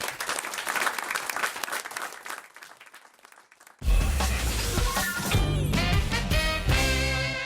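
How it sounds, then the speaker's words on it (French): An audience claps loudly and steadily, then music swells in partway through while the applause continues. "on vous applaudit tous les deux, on vous remercie."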